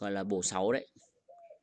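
A spotted dove at a bird-keeper's aviary in Ba Vì, Hanoi coos in a low, soft phrase at moderate distance, following someone speaking Vietnamese close by.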